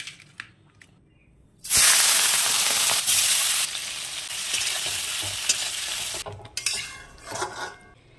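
Prawn tel jhal, a mustard-oil prawn curry with potatoes, hits hot oil in a pan with a sudden loud burst of sizzling that stays fierce for several seconds, then settles into quieter crackling with clinks of stirring.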